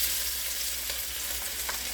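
Pork stew meat browns in a hot pan, giving a steady broadband sizzle with faint crackles and a few soft stirring sounds, close and fairly quiet, with no talking.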